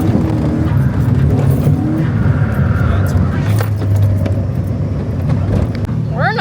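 A Mazda Miata NB drift car drives loudly up close, its engine droning steadily with a rough, busy roar throughout, while people talk over the noise.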